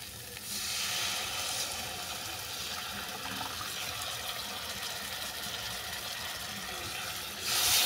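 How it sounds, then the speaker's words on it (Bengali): Water is poured into a well-cooked spicy fish curry masala, meeting the hot spices with a sustained sizzling hiss and a louder gushing rush at the end. "এরপর দিয়ে দিচ্ছি পরিমাণ মতো জল।"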